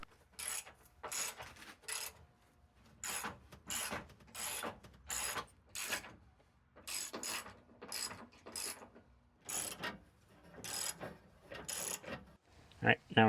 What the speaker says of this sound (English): With the last bolt in, I tightened everything up.